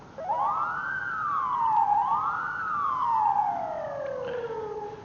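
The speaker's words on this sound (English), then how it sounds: "Manual siren." In the EmergNYC driving game, an emergency vehicle's manual siren rises, dips and swells again in a couple of long, sweeping tones, loud and alone with no talk.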